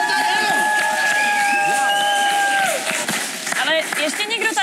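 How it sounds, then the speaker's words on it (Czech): A studio audience claps and cheers loudly for Vojta and Oliver on a kids' show set, a dense continuous burst that thins out toward the end. "Poprosím veľký potlesk pre Vojtu a Olivera."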